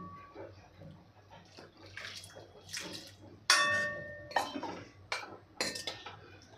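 Water splashes into a metal pot in short pours, broken by clinks and clatters of a utensil against the rim.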